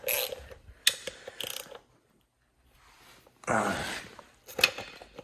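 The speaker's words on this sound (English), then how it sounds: "gonna remove these 3 bolts right here, get off the airbox" A ratchet works on the airbox bolts of a 1981 Honda CB125S, giving sharp close clicking bursts with short pauses, then a longer stretch of rapid ratcheting and a final metallic clack.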